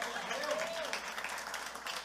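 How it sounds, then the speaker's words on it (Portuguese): Church congregation applauding, a continuous spread of clapping at moderate level with a voice briefly heard over it near the start. "Então dê um aplauso ao Senhor se você recebeu alguma coisa nessa manhã."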